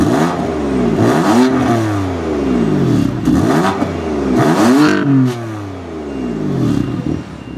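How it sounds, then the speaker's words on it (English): A 2015 BMW M3 exhaust with butterfly valves fully open revs loudly several times in quick succession, each sharp rise in pitch falling away into a throaty burble, up close. "a quick sound comparison between when the butterfly valves are closed and then fully open"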